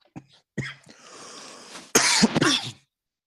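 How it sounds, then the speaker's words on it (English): A few small throat sounds, then a harsh, loud cough burst lasting under a second, close to the microphone. "Sorry, guys, I have a bit of a cough developing."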